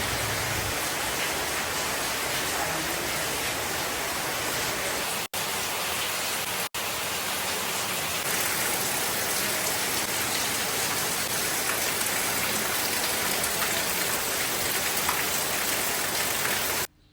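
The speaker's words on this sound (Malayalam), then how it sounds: "അപ്പോൾ നല്ല മഴ തന്നെ പെയ്യുന്നുണ്ട് പുറത്ത്." Heavy rain pours steadily outside a home with a terrace garden, a dense, continuous hiss of drops on surfaces that stays loud and unbroken apart from two brief dropouts, with no one talking.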